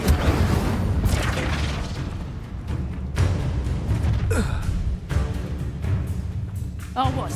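A fire spell bursts in the Hogwarts Legacy video game, a loud booming blast with crackling that swells under constant dense combat noise and voices, with several sharp impacts following.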